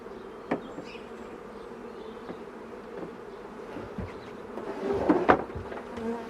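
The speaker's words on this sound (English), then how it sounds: "Now there are a few bees left in this box." Honey bees buzzing around an opened beehive box during an inspection, a steady low hum with a few louder close passes and light knocks on the wooden box near the end.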